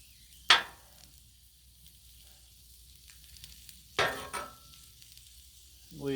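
Steamed potatoes hitting a hot Blackstone griddle give two sharp bursts of sizzle, one early and a longer one later, over an otherwise quiet background with a faint hiss between.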